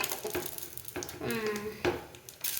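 Onion, garlic and tomato fry in oil in a pan with a soft, low sizzle, and a voice briefly sounds over it.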